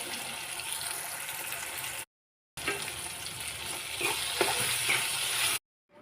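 Tempering sizzles in a hot pan for jowar flour kadabu, a steady crackling frying hiss with a brief cut of silence partway, close and alone without talking.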